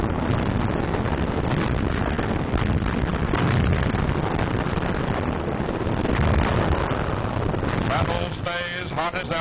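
Anti-aircraft gun fire and flak bursts during a WWII bomber air battle over Emden in 1943, a dense, continuous roar of blasts and rumbling wind noise throughout, with a voice entering faintly near the end.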